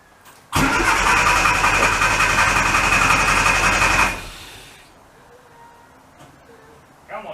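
A classic Mini Cooper S MK1 engine fires up on choke and revs loud and steady, close by, for about three and a half seconds, then drops away to a quiet, faint idle.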